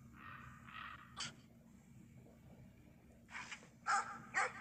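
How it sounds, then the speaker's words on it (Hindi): A dog in the video game Brothers: A Tale of Two Sons gives a few gruff barks and snorts with breathy, whimpering sounds between them, the loudest barks coming near the end, with no voices. "ओके बहुत डेंजर कुत्ता यार।"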